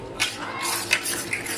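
A spoon stirs cocoa powder into a chocolate ice cream mixture in a bowl, a short run of close clinking scrapes with three sharper taps against the container, no voices.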